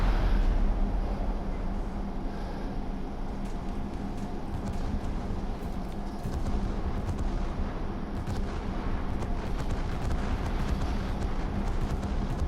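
Naval guns crewed by AI gunners fire continuously in War Thunder naval battle, a dense rumbling barrage of booms and blasts that stays loud throughout with no clear breaks.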